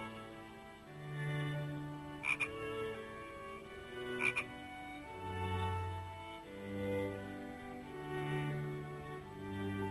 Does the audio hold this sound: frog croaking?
yes